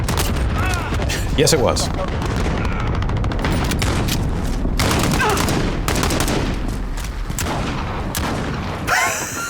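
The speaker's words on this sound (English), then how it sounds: "is that a shotgun?" Shotgun fire in Call of Duty: Modern Warfare, loud and dense, with repeated booming blasts and crackling gunfire packed together under brief talk from players.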